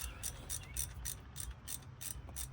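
A hand ratchet wrench clicks in a quick, even rhythm while tightening a car starter during installation, faint and close, with about eight sharp ratcheting bursts and no speech.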